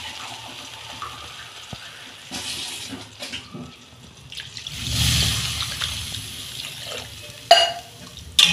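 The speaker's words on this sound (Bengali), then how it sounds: "এবার আমি পরিমাণ মতো জল দেবো" Water is poured into a simmering potato and pointed gourd fish curry, a pouring and gurgling wash that swells in the middle, with clattering pan knocks near the end.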